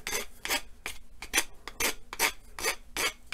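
A file rasps across the end of a wooden drumstick, the smoother side of the file rounding it off in a brisk, even rhythm of close scraping strokes, roughly three per second, with no talk.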